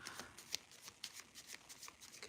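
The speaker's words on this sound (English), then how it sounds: "I'm gonna shuffle one more time." Tarot cards are riffled and shuffled by hand in a quiet close-up, a rapid run of soft papery flicks and slaps in uneven rhythm, faint, with no talk.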